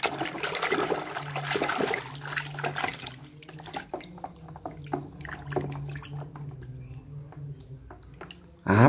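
Water runs and splashes from a tap while small toy dinosaurs are washed, a bubbling, trickling stream with drips and clatter, and a voice speaking in the background.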